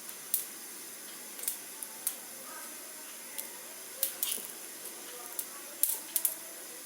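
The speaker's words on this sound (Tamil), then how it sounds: "ஸோ இப்போ கடுகு பார்த்தீங்கன்னா பொரிஞ்சிட்டே இருக்குது" Mustard seeds spluttering in hot oil while making tomato pickle, sporadic sharp pops and crackles scattered irregularly over a faint sizzle, close and fairly quiet.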